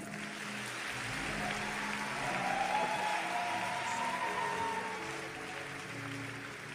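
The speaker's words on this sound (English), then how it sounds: "Are you clapping?" A church congregation at a birthday service claps together, a broad steady wash of applause swelling slightly in the middle and holding for several seconds with no talking.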